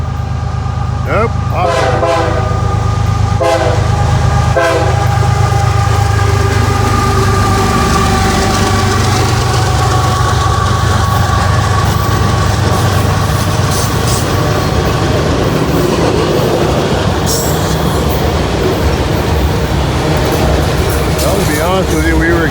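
A southbound CSX freight train on the Toledo sub at Vandalia sounds repeated loud horn blasts as its engine rumbles past up close, the heavy rolling roar of the cars continuing steadily afterward.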